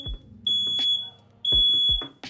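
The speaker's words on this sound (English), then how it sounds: "Oh, there's the fire alarm." A smoke alarm sounds two long, piercing high-pitched beeps, loud and close, set off during laser screen printing of T-shirts in a small room, with brief gaps and some clatter in between.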